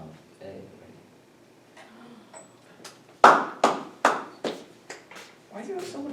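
Hands clap in a classroom during a calculus review lesson: after faint taps and someone talking, a string of about six sharp, loud claps rings out at an uneven pace, each echoing briefly in the room.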